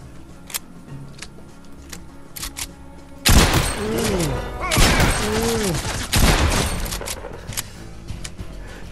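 A shotgun fires in Fortnite video game play with three loud, booming blasts spaced a second or two apart over a low background hum, and a voice is heard between the shots.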